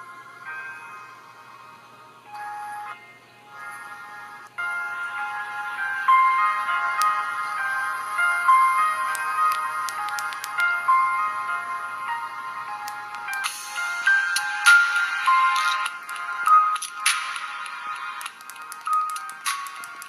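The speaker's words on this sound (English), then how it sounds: "here is what the built-in loudspeaker sounds like" The small built-in loudspeaker of a Yoton YM07 mini touchscreen MP3 player plays a tinny, bright melody with a chime-like tune. It runs continuously for about twenty seconds, thin and lacking bass, with no one speaking.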